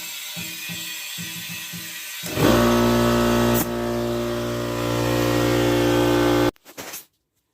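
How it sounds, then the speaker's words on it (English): An air compressor, used to inflate a tyre to 85 psi on a 2010 Subaru during a tyre-pressure sensor repair, kicks on with a loud, steady mechanical drone after some clanking. It runs for several seconds, then cuts off abruptly. "the air compressor came on. Makes a hell of a lot of noise."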